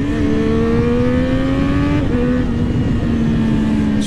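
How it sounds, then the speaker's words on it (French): A loud four-cylinder sport motorcycle engine revs hard toward 14,000 rpm, its pitch climbing steadily before dipping briefly and continuing at a high, snarling drone. "il est rageur ce moteur, c'est un moteur de sportive"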